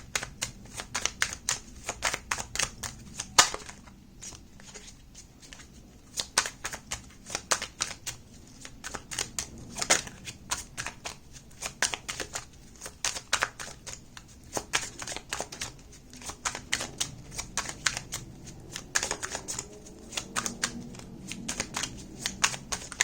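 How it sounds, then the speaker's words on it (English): A deck of tarot cards is shuffled over and over, giving soft, rapid riffling and slapping bursts in an irregular rhythm, close and quiet with no voices. "as I'm shuffling the deck"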